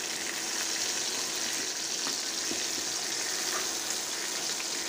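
Hilsa fish fries in a pan with oil, making a constant, close hiss and sizzle with faint pops and no voices.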